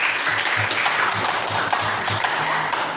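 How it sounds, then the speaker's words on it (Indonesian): Hands clap together in a classroom after a student group finishes presenting, a dense, steady patter of many pupils filling the room at moderate volume, with faint voices underneath. "Oke, terima kasih. Tepuk tangan."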